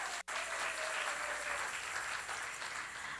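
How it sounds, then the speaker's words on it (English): Audience at a senior variety show claps for a performer, a steady dense wash of hands lasting the whole moment, broken only by one sharp click near the start. "Let's clap for Edward"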